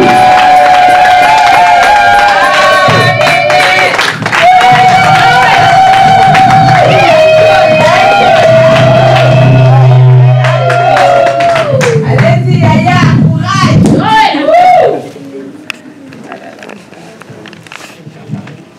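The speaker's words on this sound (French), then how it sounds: "Nous applaudissons pour la gloire de Dieu." Church congregation applauding and cheering together at a service, loud sustained clapping with voices and shouts over music that drops away near the end.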